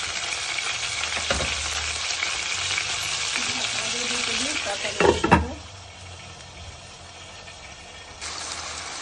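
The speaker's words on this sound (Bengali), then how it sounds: "তো মাছটাকে আমি আগে ভালোভাবে কষিয়ে নেব।" Mixed fish, pabda, puti and shing, being fried and sautéed in a pan, a dense steady sizzle with a few metallic knocks of a spatula midway, then quieter frying that swells again at the end.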